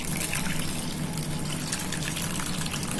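Cold water poured into a glass, a steady continuous watery rush and gurgle, close by, running for the whole stretch without any talking.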